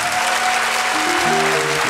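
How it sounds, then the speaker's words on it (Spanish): Applause from a studio audience on a Peruvian talk show greets a couple, a dense steady wash of clapping with music or tones sustained underneath. "Un fuerte aplauso, pues, para él."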